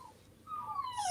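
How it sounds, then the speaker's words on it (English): Puppies whimper in a brief, high, wavering whine that rises and falls, close and fairly faint, alone without talk. "Oh, I hear Sandy's puppies."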